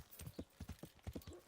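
Horse hooves clip-clopping in the medieval video game Kingdom Come: Deliverance, a steady run of about a dozen moderately loud hoof strikes close by with no talk over them.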